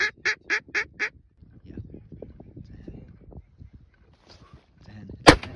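A duck quacks five times in a quick series, loud and close, while duck hunting in frigid conditions. Voices follow, then a sharp gunshot near the end.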